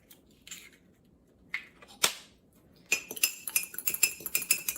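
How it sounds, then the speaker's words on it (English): A fork beats a whole egg in a small bowl for an egg wash, a few scattered clinks at first, then a rapid run of sharp metallic taps against the bowl, close and clear with no talk. "So just got that nice and scrambled up with my fork there."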